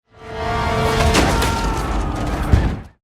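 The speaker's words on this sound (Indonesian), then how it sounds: "George Washington terbangun akibat suara ledakan." A deep booming explosion in a 1755 film scene set in the Pennsylvania wilderness, a sustained loud roar with debris-like crackle that swells, holds, then cuts off, with no voices.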